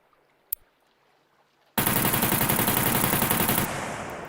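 A Tommy gun fitted with an improvised rail fires a long sustained automatic burst in SCUM. The rapid shots start abruptly after a short quiet lead-in with a single click, then run close and loud before tapering off.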